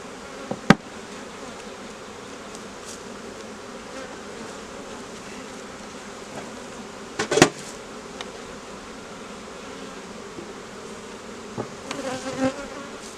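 Honeybees crowd a hive and beard across its front, filling the air with a dense, continuous buzz close by, broken by a few sharp knocks.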